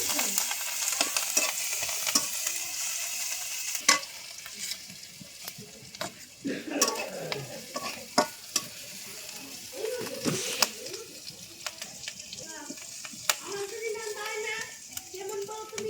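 Garlic, greens and moringa leaves fry and sizzle in a pan, stirred with scraping clinks throughout, while someone talks over the steady crackle.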